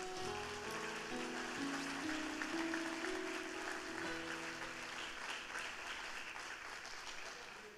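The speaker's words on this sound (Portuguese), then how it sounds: "Quer aplaudir o Senhor? Pode aplaudir," A church congregation applauds together in steady, dense clapping that carries on for several seconds, sounding like rain across the hall. A low hum sits beneath the clapping.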